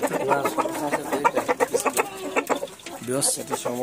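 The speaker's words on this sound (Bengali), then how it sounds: "এই ফাইটার মুরগিটা হচ্ছে বিশ্বের সবচেয়ে ভয়ঙ্কর মুরগি" A fighter-breed chicken on a farm clucks in a busy run of short, repeated calls close by, with other fowl noises and human talk mixed in throughout.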